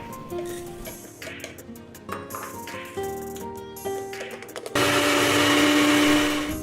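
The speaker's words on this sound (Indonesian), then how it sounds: "kemudian kita blender hingga benar-benar halus" A kitchen blender grinds toasted coconut serundeng, starting with loose rattling and intermittent pulses, then settling into a loud, continuous high whirring spin near the end, with no voices.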